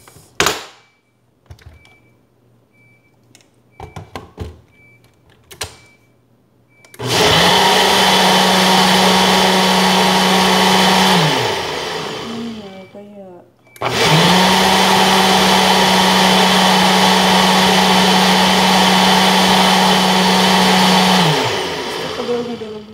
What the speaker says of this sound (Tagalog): Tapos maingay yung blender natin.